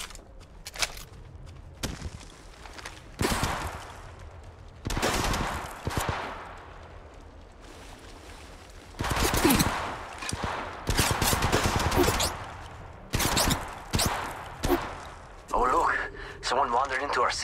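Bursts of automatic gunfire from an Apex Legends Mobile match, several separate volleys of rapid shots over about seventeen seconds, with a voice talking between and over them.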